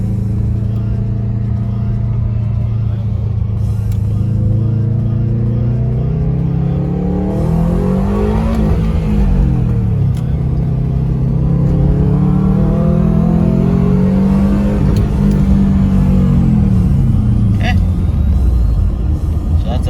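A Subaru WRX/STI engine fitted with a Mishimoto cold air intake revs hard up through first gear, drops as the gear changes, then climbs again through second, heard from inside the cabin.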